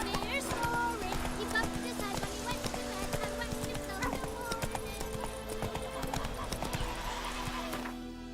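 Roach the horse gallops in The Witcher 3, with a steady clip-clop of hooves running under game music and a whinny, while voices talk over the ride.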